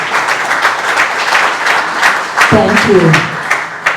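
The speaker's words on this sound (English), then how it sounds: "So please give a big round of applause" Audience applause at a book launch event in Mumbai, a steady wash of many hands clapping throughout, with a voice speaking briefly over it near the end.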